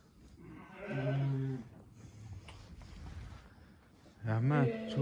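Goats bleat in a barn with sheep kept nearby, two loud wavering calls close by, one near the start and one at the end, with quieter shuffling and movement in between.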